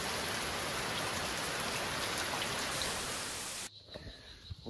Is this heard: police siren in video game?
no